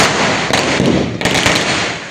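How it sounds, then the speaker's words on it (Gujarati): Firecrackers go off throughout as a dense, broadband crackle with two sharper bursts about a second apart, loud and close. "છોકરાઓ ફટાકડા જોઈ રહ્યા છે"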